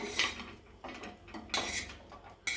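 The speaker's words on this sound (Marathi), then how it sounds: "आपण ते काढून घेऊया एका प्लेटमध्ये" Roasted coconut scooped out of a pan onto a plate: a few quick metallic scrapes and clinks of a spoon against cookware, close and fairly quiet, in short bursts.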